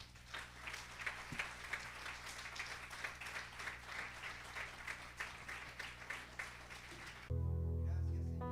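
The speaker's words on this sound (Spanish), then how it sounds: "Denle un aplauso al Señor" A church congregation applauding the Lord during a Spanish-language service, a steady wash of many hands clapping at moderate distance for several seconds before a sustained musical chord swells in.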